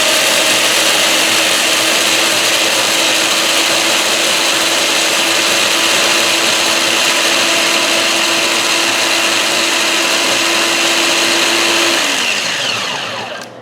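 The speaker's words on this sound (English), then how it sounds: "putting it again in your food processor, blender, something like that, and turning it into flour" A blender or food processor grinding ingredients into flour runs with a loud, steady motor whir and dense grinding noise for about twelve seconds, then spins down as it is switched off.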